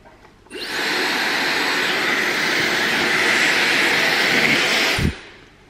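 A hair dryer switches on and blows steadily for about four and a half seconds while styling freshly cut short hair, a loud continuous whoosh that then cuts off.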